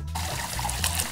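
A waterproof, shatterproof IP55-rated flare drops into water with a brief trickling splash, a short close burst of liquid sound with no talking.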